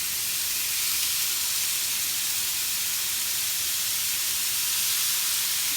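Burgers cooking in a hot grill pan give off a constant loud, dense sizzling hiss that holds evenly throughout without a break.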